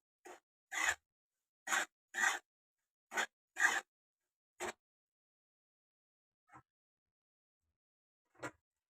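Dry semolina is stirred while roasting in a pan, giving about ten short, separate scraping strokes that are soft and close, with near silence between them and the last few fainter.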